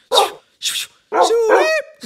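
A man imitates a dog, calling out in a run of three or four loud, close barks and yips with brief gaps between them.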